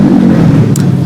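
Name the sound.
loud motorcycle passing by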